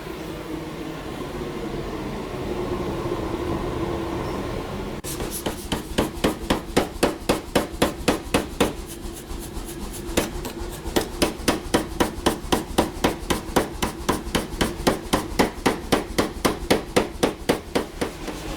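Heated stainless steel hammered at a forge, a fast, steady run of loud, close metallic blows starting a few seconds in and continuing to the end over a background hum.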